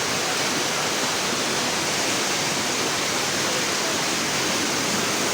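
A rural river flows in a steady, dense rush of water with no pauses, fairly close and with no voices over it.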